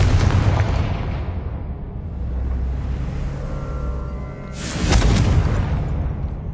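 A Confringo blasting spell explodes in the Hogwarts Legacy video game, with a deep rumbling boom that swells and fades, followed a few seconds later by a second loud burst, heavy and close with no talking.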